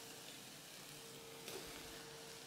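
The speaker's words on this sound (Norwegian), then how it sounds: "Her begynner det å steke godt." Minced meat and onion fry in a pan with a steady, faint, even sizzle throughout, with no voices.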